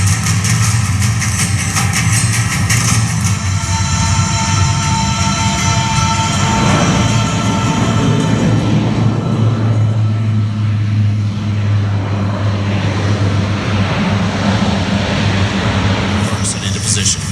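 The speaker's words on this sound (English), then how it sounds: "just executed a low-altitude tactical approach at 500 feet, maximizing aircraft performance." A military aircraft flies a low-altitude tactical approach at about 500 feet during an air show at Quonset Point, Rhode Island, a loud steady engine roar under continuous announcer talk.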